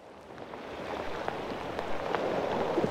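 Rain patters softly at the shore of the Bristol Channel during a bass and ray fishing trip, a faint, steady hiss with scattered drop ticks that grows slightly toward the end.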